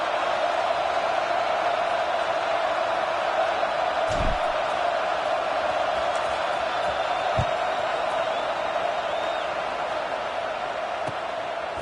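A football stadium crowd just after a touchdown gives off a steady, broad wash of murmur and noise. It stays subdued, with no big cheering peaks, and only a couple of faint thumps rise above the hum.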